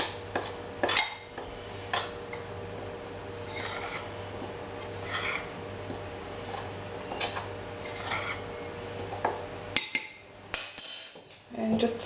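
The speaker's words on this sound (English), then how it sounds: "We'll get that a little stir together." Cookie mix of flour, salt and coconut being stirred in a bowl, giving scattered clinks and scrapes of utensil against dish at close range, with a steady low hum behind and a burst of sharper clatter near the end.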